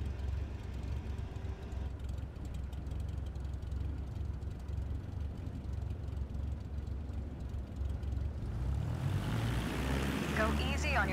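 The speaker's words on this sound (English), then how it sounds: "Now, gently increase throttle to get the aircraft moving." In Microsoft Flight Simulator 2024, a small propeller aircraft's engine drones steadily at low power, then throttles up toward the end as it begins to taxi, a continuous loud hum with no speech.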